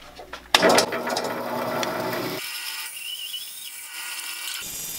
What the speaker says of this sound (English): All right, let's go to the bandsaw.